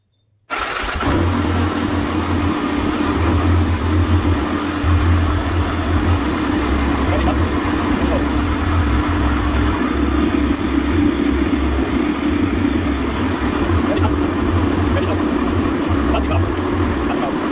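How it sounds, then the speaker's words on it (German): A BMW F 650 CS Scarver motorcycle engine starts and settles into a steady, loud idle, its low throbbing rumble running continuously close by. "Motor an."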